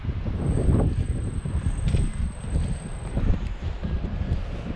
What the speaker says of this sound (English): No, it's windy.